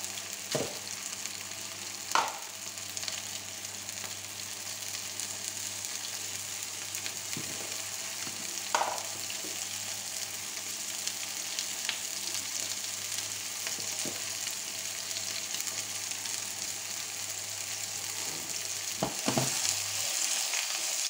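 Cod fillet frying in a pan, a steady close sizzle and crackle with a few soft clicks and stirring bumps, continuous throughout with no talking.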